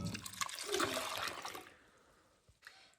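Warm water and sourdough starter poured into a bowl, a close liquid splash and trickle that tapers off into quiet, followed by a small clunk.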